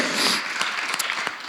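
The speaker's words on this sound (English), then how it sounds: "can we give her a round of applause?" Audience applause at a conference on the Black care experience, a dense wash of clapping from a crowd with a few sharper claps standing out, steady and fairly loud over the whole stretch.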